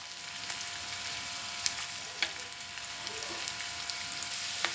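Sliced onions and grated dried coconut roasting in a pan over medium heat, a steady soft sizzle with occasional faint ticks and pops, no voices.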